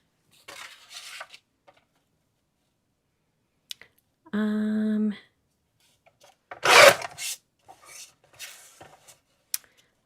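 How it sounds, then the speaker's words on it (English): Watercolor paper is trimmed down for a card with soft scraping and sliding sounds, a short buzzing stretch and a sharper cutting swipe, all separated by quiet pauses. "So give me one moment to trim this down."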